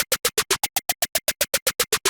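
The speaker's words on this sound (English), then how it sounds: "Then what I did was a triplet roll descending like this." Bright, high-end snare programmed in FL Studio plays a fast descending triplet roll, about sixteen crisp evenly spaced hits stepping down in pitch, close and alone.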